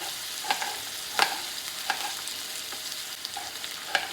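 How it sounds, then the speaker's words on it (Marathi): Onion frying in a pan with garlic and curry leaves makes a soft, continuous sizzle, punctuated by several sharp spatula scrapes as it is stirred, close by and without talk. "लसूण गरम झाले आणि कढीपत्ता, त्याच्यामध्ये कांदा टाकते"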